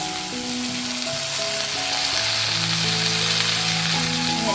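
Beef sizzling as it is added to frying onions and tomatoes for a beef roast, a steady loud crackling hiss that holds throughout, close up, with a faint tonal hum underneath.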